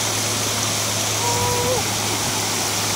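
Water falling at a lake outlet, a steady rushing roar throughout with a low hum and a brief faint tonal sound midway.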